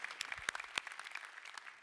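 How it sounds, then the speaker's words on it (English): A church congregation claps, but faintly and from a distance, with scattered individual claps standing out over a thin, sparse patter. "Yeah, you can clap for that. Clap for the people that came before you"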